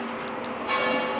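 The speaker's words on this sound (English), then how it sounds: "you do get the ringing of the bells" Church bells ringing out in Cyprus, a sustained resonant metallic ringing with overlapping tones heard at a moderate distance in the open air.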